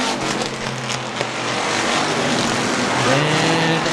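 Stock cars racing around a short oval track in a Strictly Street event, a steady loud engine roar filling the whole stretch with no clear pass-by peaks, dense and continuous with faint tire noise.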